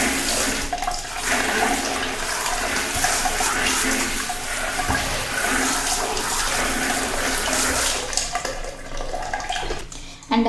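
Forceful water spray rinses a dirty cloth diaper. A steady, loud hiss of spray and splashing runs unbroken for about ten seconds and shifts briefly near the end.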